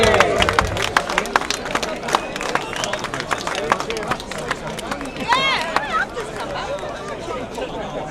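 A protest crowd outside a migrant hotel cheers, whoops and claps in a dense, continuous babble, with sharp handclaps and shouts scattered throughout, fairly close and steady for several seconds.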